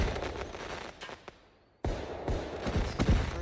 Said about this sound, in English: Listen, it's the fireworks.